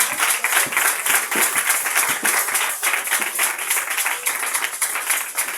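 Congregation of camp workers at a morning prayer service clapping together, a brisk steady applause of many hands, loud and close, continuing without pause and with no voices over it.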